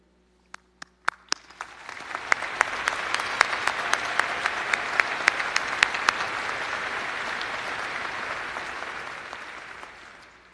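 An audience at a veterinary medicine college hooding ceremony applauds faculty and staff: a few scattered claps swell within two seconds into sustained, dense, fairly loud applause that holds steady before tapering off near the end.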